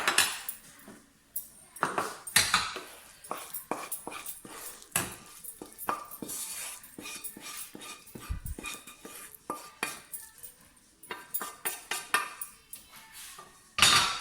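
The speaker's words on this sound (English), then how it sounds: "So I am now going to place everything in a bowl." Pear and Parmigiano rice for a toddler is spooned into a bowl: a string of sharp, close clinks and scrapes of utensil on dishware, irregular and spaced with short pauses, with no talking.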